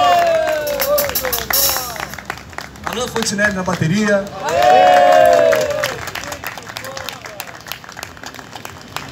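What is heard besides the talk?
audience clapping hands at a live music show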